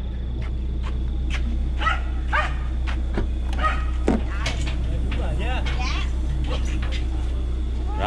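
Two dogs in Cu Chi, Vietnam, bark and whimper in short yips and whines over a steady low engine hum, fairly close by.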